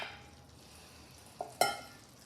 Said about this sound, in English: Mix it all up so I get a nice coating of the sauce on the peppers and the onions too.